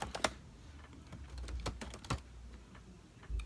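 Fingers tap out a search on a computer keyboard in a run of quick, uneven clicks with a few sharper key strikes, close and fairly quiet, with no talking.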